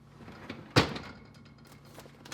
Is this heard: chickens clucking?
no